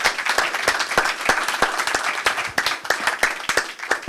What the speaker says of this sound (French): je vous propose d'applaudir évidemment ce témoignage ici avec nous